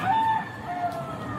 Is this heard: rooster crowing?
yes